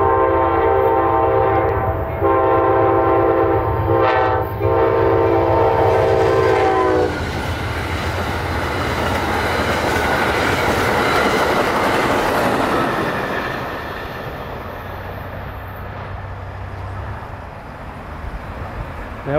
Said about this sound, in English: Here comes the northbound.